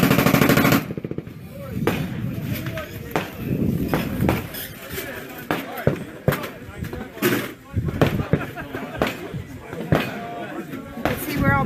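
Machine gun fire from big guns at an outdoor shooting range during an industry day, in loud rapid bursts and single heavy reports from near and far, with people talking between the volleys.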